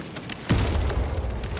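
A shock grenade goes off in the video game Space Marine 2: a sudden broadband burst about a third of the way in, then a sustained low, rumbling crackle for the rest.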